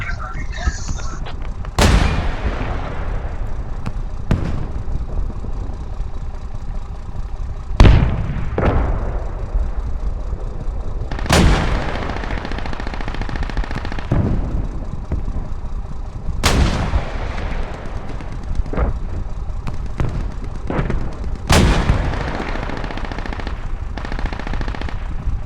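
Incoming rocket and mortar fire lands as a series of heavy, booming blasts about every few seconds over a constant rumbling background, with faint voices mixed in.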